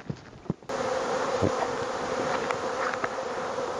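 Honeybees in a densely crowded hive fill the air with a loud, close, continuous buzzing hum that starts abruptly after a few soft knocks.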